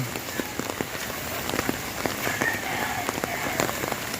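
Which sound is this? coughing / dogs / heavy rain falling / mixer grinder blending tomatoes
heavy rain falling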